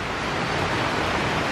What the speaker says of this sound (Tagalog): lumakas yung ulan bumuhos ulit